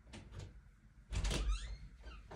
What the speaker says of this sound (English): Okay, but just shut the door, please.